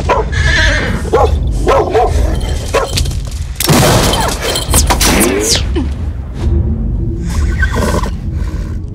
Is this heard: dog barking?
yes